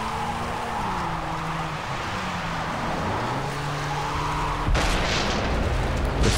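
A game explosion in Far Cry 3 booms out partway through, followed by a building facade collapsing, rising over steady in-game engine and ambient rumble with musical tones underneath.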